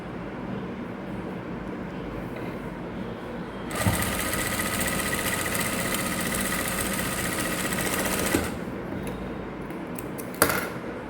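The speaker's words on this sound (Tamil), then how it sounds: "டபுளாக நம்ம தைக்கிறோம்." A sewing machine sews a double seam, quiet at first, then a loud steady whir for several seconds before stopping, followed by a sharp click.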